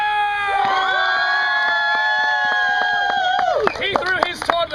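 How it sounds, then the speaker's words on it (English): A theatre audience at a Shakespeare-themed comedy show cheers, whistles and claps, with long high whistled and shouted tones, scattered sharp claps, and a noisier burst of crowd noise near the end. "I want you to hoot, holler, clap, cheer, stomp your feet, whistle"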